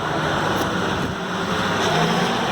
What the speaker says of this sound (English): we got a tractor going by